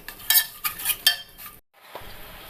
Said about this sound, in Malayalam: ഇതൊന്ന് ഉരുക്കി അരിച്ചെടുക്കണം.